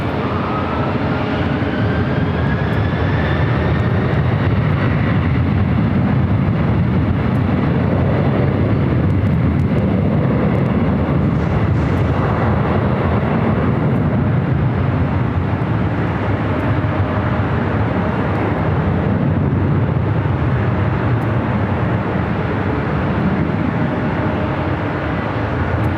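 An airliner on the runway at Los Angeles International Airport gives off a loud, sustained engine roar that holds steady throughout, heard from a distance with no talking.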